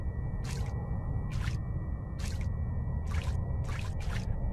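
A player wades through sewage water in a VR horror game, producing steady low sloshing under a constant droning hum, with about six rhythmic bursts of splashing like footsteps through the water.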